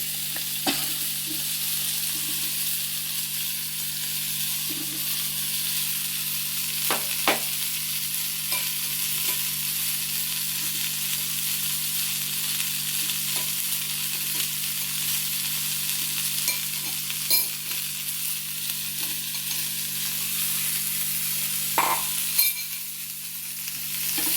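Long beans sauté in a pan for payar mezhukkupuratti under a constant bright sizzle, with occasional light clicks and scrapes from stirring spread over the whole stretch.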